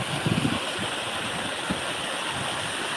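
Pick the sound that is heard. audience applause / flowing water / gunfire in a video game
flowing water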